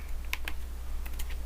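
A short burst of keystrokes on a computer keyboard, a few crisp clicks typed close up over a faint steady hum, with no talking.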